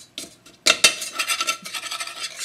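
A spoon scraping ghee residue mixed with brown sugar from the bottom of a pot, a few sharp metallic clanks followed by repeated rasping scrapes, close and clear.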